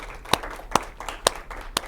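Four sharp, evenly spaced claps ring out at a student senate meeting, each crisp and isolated against a quiet room with faint background noise.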